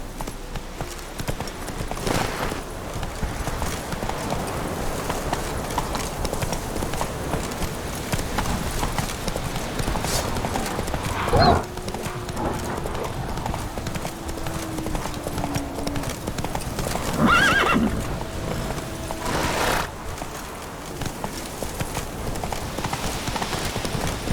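Roach, a horse in The Witcher 3 video game, gallops with a steady, rapid clip-clop of hooves that runs throughout, joined by a few brief louder thuds and some occasional background voice.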